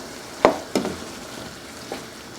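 Seasoned shepherd's pie filling with garlic salt sizzles faintly in a pan, with two sharp spoon scrapes early on and a softer knock later, no talking.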